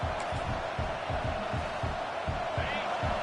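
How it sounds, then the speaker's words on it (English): Steady stadium crowd roar in College Football 26 during a championship game, a dense continuous wash of cheering with a rhythmic low thumping pulse underneath, no clear individual voices. "Listen to the crowd energy here in the early going."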